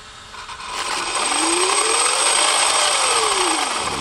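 An Arrma Kraton RC car's electric motor, fitted with a Castle speed controller, whines up in a rising then falling pitch sweep over steady hiss, loud and close, with no talk.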